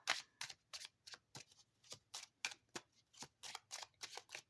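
Tarot cards of the Rider-Waite deck being shuffled by hand, a rapid series of crisp riffling bursts repeating roughly every half second, close and fairly quiet with no talking.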